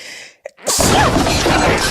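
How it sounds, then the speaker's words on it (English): A single sharp sneeze after a short inhaling gasp, close and loud, followed by a burst of breathy noise. "Hold for sneeze."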